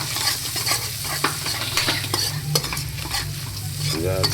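A spoon slowly stirs turmeric, coriander-cumin powder, garam masala and Kashmiri red chilli frying in oil for onion paratha, with a close, continuous sizzle broken by repeated scraping strokes against the pan.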